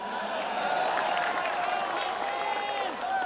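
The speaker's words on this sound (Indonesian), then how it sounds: "Tepuk tangannya dahsyat penuh rasa cinta." Steady crowd clapping fills an Indonesian political coalition gathering, a continuous moderate-level wash of applause with crowd murmur running throughout.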